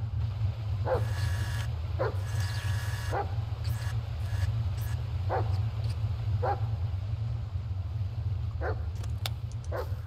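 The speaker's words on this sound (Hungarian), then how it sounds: "Az meg kutya." A dog barks in the Blair Witch video game, single barks repeated about every second over a steady low hum, fairly faint and set back in the mix.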